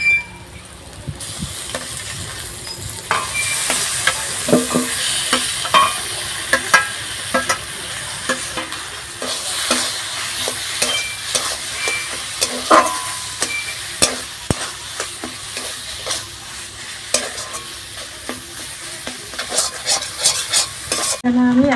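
Deboned katla fish frying and being stirred in a pan for cutlets, a steady sizzle broken by repeated scraping and clattering strokes of a spatula, close and fairly loud with no talk.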